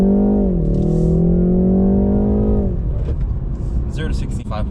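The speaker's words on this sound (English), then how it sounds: "we're going to do a slight acceleration run here really quick" A 2020 BMW 330i in sport mode accelerates hard, its engine note climbing then dropping through a shift, with the cabin drone fading as people talk over it.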